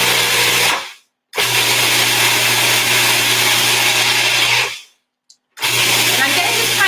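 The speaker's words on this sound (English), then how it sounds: "So I'm using the food processor this time." A food processor grinds dried nettle and plantain leaves with salt in two loud, steady bursts of whirring, the first about four seconds long, separated by short silences.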